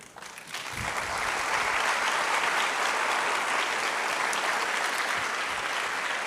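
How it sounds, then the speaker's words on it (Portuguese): A church audience applauds at the close of a faith-and-science lecture, the clapping swelling within the first second into a loud, steady, dense roar that holds evenly to the end. "Vocês já sabem para quem todas essas palmas têm que ser direcionadas, né?"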